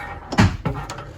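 A door opens inside a Cedar Creek fifth-wheel RV. It gives a short, close knock and thump, followed by a softer second bump.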